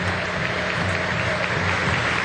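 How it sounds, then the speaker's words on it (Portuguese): A stadium crowd at a Criciúma versus Palmeiras football match applauds in tribute instead of a minute of silence, a loud dense wash of clapping that carries on unbroken. "Em vez de um minuto de silêncio, aplausos."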